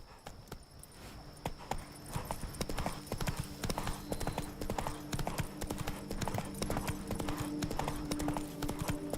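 Geralt's horse Roach gallops in The Witcher 3, its hooves clip-clopping in a fast, steady, close rhythm over ambient game sound.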